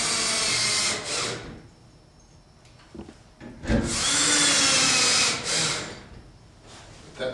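Power drill driving a 2-inch wood screw fitted with a rubber grommet during an air conditioner installation, loud whirring bursts near the mic with a short pause between them, then a longer sustained run.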